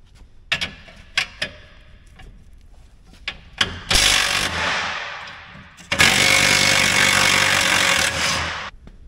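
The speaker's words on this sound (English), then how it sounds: "Probably not going to be able to use the impact on all of these," An impact wrench loosens stubborn painted bolts on a farm planter: a few sharp clicks, then two loud close hammering bursts, one about a second long and a longer one of nearly three seconds, with no talking.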